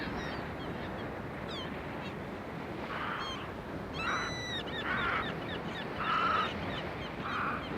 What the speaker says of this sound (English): Gulls wheel and dive.